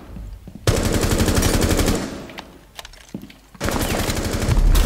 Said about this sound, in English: You can shoot through walls in this game.